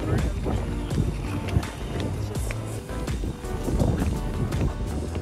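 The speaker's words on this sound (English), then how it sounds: "Oh, the wind." Wind gusts outdoors roar and buffet the microphone steadily throughout, with a person's voice heard intermittently over the rumble.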